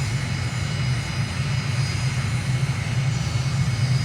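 An aircraft in Microsoft Flight Simulator taxis toward runway 03 at Ankara at dusk, its engine a steady, loud, unbroken drone with no voices over it.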